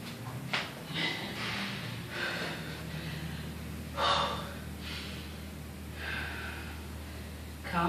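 Heavy breathing during forearm handstand practice comes in loud, close exhales and snorting puffs spaced a second or two apart over a low steady background hum.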